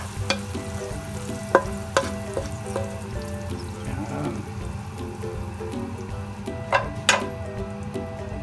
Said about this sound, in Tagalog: Habang nagsisisil pa po sa ating kawali